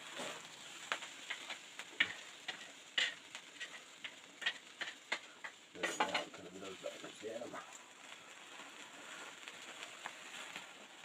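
Soft, continuous sizzling of chicken frying in a pan, dotted with small pops and crackles and a brief stirring scrape around the middle.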